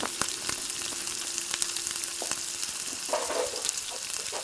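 Small fish frying in a pan give off a steady close sizzle and crackle, with scattered pops and a light clink or scrape of stirring, no speech.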